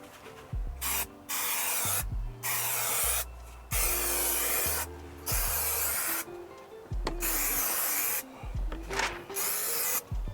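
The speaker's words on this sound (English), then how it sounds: "So now I'm going to spray the foam first." Spray adhesive hisses onto headliner foam during a saggy headliner repair, coming in roughly seven loud, close bursts of a second or so each, separated by short pauses and faint knocks.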